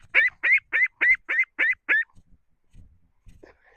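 A duck honks loudly seven times in a quick, evenly spaced run close by, then falls quiet with faint rustling afterward.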